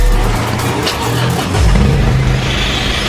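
Engine of a 2018 Isuzu D-Max 1.9 Z pickup with a turbo, running loud and close as a steady throaty rumble that swells briefly midway.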